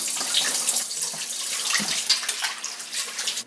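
Young turnip greens rinsed under a running tap at a sink, a steady broadband splash of flowing water continuing throughout with slight surges and no talk.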